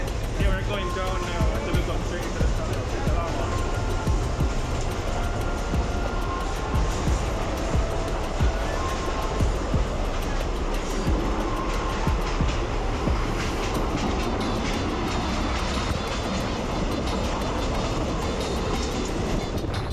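A train on a Jamaican railway rumbles steadily on the rails, with a continuous loud roar, rhythmic wheel clatter and occasional squeals heard from on board, and a voice talks over it at times.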